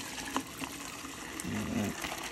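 Water running and splashing as broth is drained while making stracciatella soup, with a gushing pour swelling midway, faint clinks of kitchenware and a brief tonal scrape near the end.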